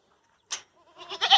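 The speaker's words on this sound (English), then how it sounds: "Too many goats at the gate to get these chickens in" A goat bleats twice close by at a farm gate, a short call followed by a longer wavering bleat, with near silence around them.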